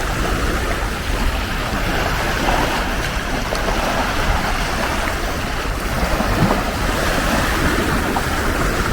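Gentle waves of a calm sea lap continuously near the shore at Samsun, Turkey, a soft steady wash mixed with light wind noise, with no talking.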